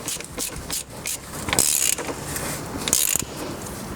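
A wrench tightening the oil filter housing on a BMW 5 Series E60, heard as close metallic clicks and scraping turns in short bursts, with two sharper bright clanks.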